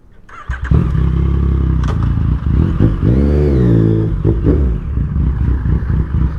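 A Yamaha MT-09 motorcycle engine under way, a loud continuous close drone that swells through a rising and falling rev mid-run, with some wind and rattle around it.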